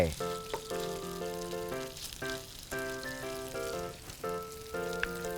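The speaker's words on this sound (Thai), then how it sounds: "ตัวแฮมที่ผมเตรียมเอาไว้เนี่ยนะครับ ขออนุญาตทำให้มันสุกอีกนิดนึงแล้วกัน ใส่ลงไปเลยครับ" Ham frying in melted butter, for buttered sautéed spinach, gives a soft, continuous sizzle and crackle, heard faintly beneath bright melodic background music.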